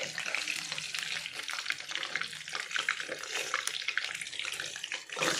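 Bottle gourd kofta balls fry in oil in a kadhai as they are turned, a dense, busy crackling sizzle that runs steadily throughout at close range.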